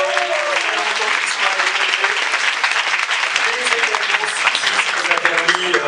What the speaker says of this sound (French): on a aussi les brasseries Météor, on peut les applaudir.